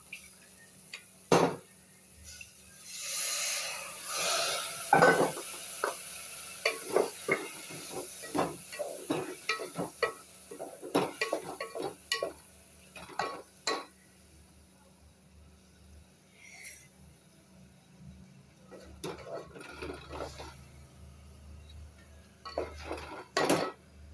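A masala mixture stirred in a pot, scattered clinks and scrapes of a spoon against metal over a soft steamy hiss, irregular strokes close by with quieter gaps toward the end.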